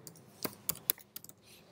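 Keystrokes on a computer keyboard while Python code is entered: a handful of sharp, close clicks in an uneven rhythm, with short gaps between taps and no voices.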